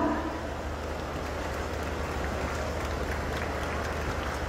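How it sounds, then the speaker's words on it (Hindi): A large crowd at a government tablet distribution and job fair event in Moradabad gives vigorous applause, a continuous loud wash of clapping that holds steady throughout without pause. "एक बार जोरदार तालियां सभी के लिए।"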